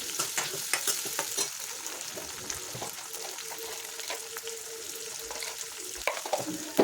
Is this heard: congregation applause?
no